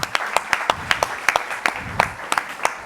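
At a CaixaForum talk on trust in democracy, a small audience claps in sparse, distinct slaps, each clap clearly separated in a loose, uneven rhythm.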